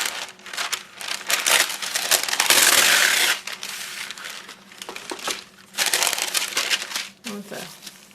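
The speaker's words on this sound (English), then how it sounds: "I'm going to use some parchment paper" Parchment paper being crinkled and crushed up close, loud, bursty crackling that swells and fades in waves.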